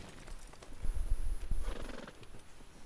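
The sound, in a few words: horse neighing and hooves in video game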